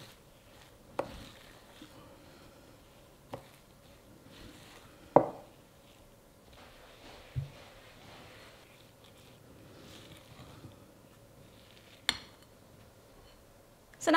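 Desiccated coconut being mixed in bowls: scattered soft knocks and scrapes of a utensil against the bowl at irregular intervals, fairly close, with quiet room noise between.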